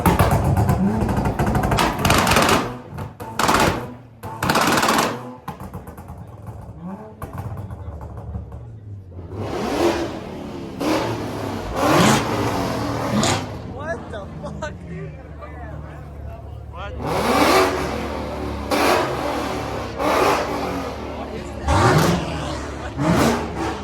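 Two McLaren supercars leaving a car meet rev and accelerate in repeated loud bursts with rising and falling engine sweeps, while people nearby talk and exclaim over crowd noise.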